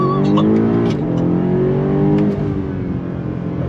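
A 2022 BMW M5 CS sedan accelerating hard on throttle in second gear from a slow roll, its engine note loud and close, rising steadily in pitch with a brief dip around a shift-like change midway.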